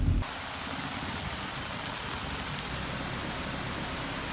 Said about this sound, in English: It's intense rain, man.